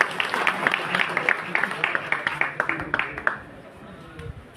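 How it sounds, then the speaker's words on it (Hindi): A crowd at a BJP protest rally in Nahan applauds: brisk, dense clapping with a few louder individual claps, lasting about three seconds before thinning out into faint background murmur. "मेरा निवेदन है आप सभी जोरदार तालियों से उनका भी स्वागत अभिनंदन करें।"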